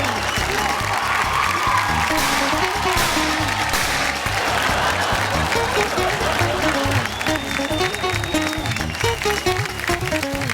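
A studio audience at a Marathi television game show claps in a dense, sustained round of applause that stays loud throughout, with a voice speaking over it.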